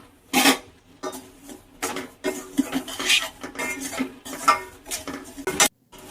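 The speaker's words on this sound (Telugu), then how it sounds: "రవ్వ నెయ్యిలో బాగా వేపుకోవాలి." Semolina is fried in ghee in a kadai and stirred with a metal spoon. The spoon scrapes and clinks against the pan in irregular, fairly loud strokes close by.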